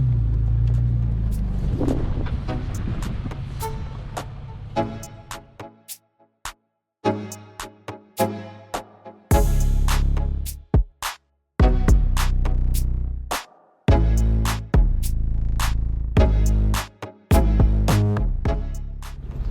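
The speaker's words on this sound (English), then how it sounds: "we'll be driving on top of it now" A vehicle drives slowly along old disused train tracks running through a farm, with a loud, steady engine rumble cut by abrupt jolts and gaps as it bumps over the rails.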